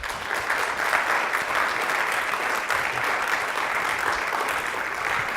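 An audience at an intimate music conversation event in Maine applauds to welcome a guest, a steady dense clapping held at even loudness from start to finish.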